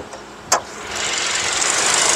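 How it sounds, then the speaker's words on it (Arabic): A 2024 Kia Sportage's 1.6-litre turbo GDI Smartstream engine gives a single sharp click, then a rising, steady engine rush that builds and holds, heard close up with no talking. "المحرك ال 1600 التيربو جي دي اي السمارت ستريم"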